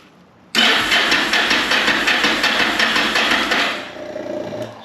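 A Yamaha motorcycle engine cranks over on the starter during a compression test, with a rapid, even chugging of compression pulses that runs for about three seconds, then slows and fades out.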